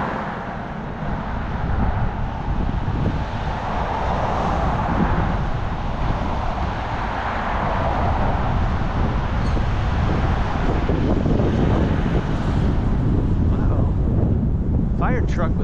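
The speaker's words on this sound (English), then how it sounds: "Oh, it's windy. It's super loud for the camera, I know." Loud, steady wind buffeting the camera microphone at a park, a constant low rumble with gusty swells, and faint outdoor sounds beneath it.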